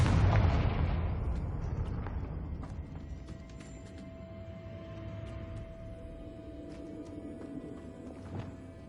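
A Confringo spell blast from Hogwarts Legacy erupts with a loud boom up front, then a long rumbling decay that fades over several seconds, with faint scattered clatter and a thin sustained tone behind it.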